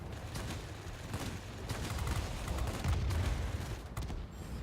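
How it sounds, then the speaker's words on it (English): Rapid aircraft cannon fire in the video game Warplanes, an A6M3, with single shots and steady bursts of cannon-like booms over a constant rumbling engine drone. "you can hear that single shot, single shot, single shot, burst, bang, bang, bang, bang, bang"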